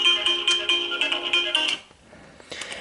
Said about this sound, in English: It's ringing that, as you can see.